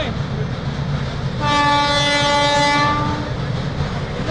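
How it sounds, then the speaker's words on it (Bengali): A train horn sounds once, long and steady, for about a second and a half, over a constant rumble of a passing train and outdoor noise near the Teesta River. "ট্রেন যাচ্ছে"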